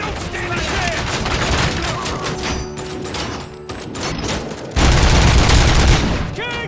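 Gunfire in the video game RoboCop Rogue City, with dense bursts of rapid shots and heavy thumps, loud and continuous, and a louder volley near the end, with game voices mixed in.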